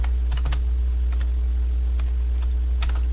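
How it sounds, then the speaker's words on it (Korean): Keys tapped on a computer keyboard while entering numbers, a few scattered clicks at a moderate distance with quiet gaps between, no talking. "숫자를 써주고 엔터를 치면은"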